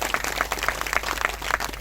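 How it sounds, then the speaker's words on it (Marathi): Audience at a Marathi varkari kirtan clapping to congratulate a newly married couple, a brief burst of rhythmic, moderately loud applause. "टाळ्या वाजवा ना एकदा शुभेच्छा."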